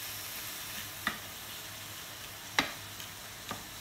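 Cream simmers in a hot pan with spinach for a layered hachis parmentier gratin, giving a faint, steady hiss broken by a few soft pops and clicks.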